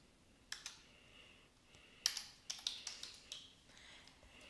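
Fingers type an employee number and password on a computer keyboard in a short burst of crisp, close key clicks, with a few isolated taps and pauses between quick runs; the clicking is fairly quiet and no voice is heard.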